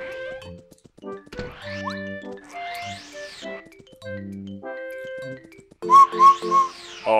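A person whistles a wandering tune indoors in a reverberant room, with sustained tonal notes and bends, then a louder, brighter burst near the end; no talking.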